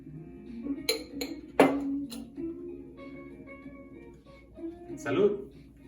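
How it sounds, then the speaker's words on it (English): A shaken carajillo cocktail of coffee and bourbon poured into a glass over ice, with a few sharp clinks of ice against glass and a splash, close and fairly quiet, with a voice speaking over part of it. "And then pour it straight in the glass with some ice."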